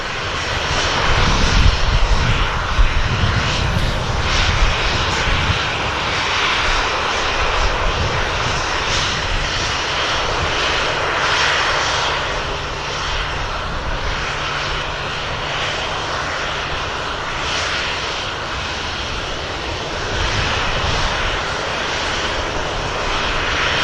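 A Virgin Atlantic Airbus A330 at Manchester Airport rumbles with a loud, sustained jet roar that swells early and then holds a broad, rough drone across the whole span, with no voices over it.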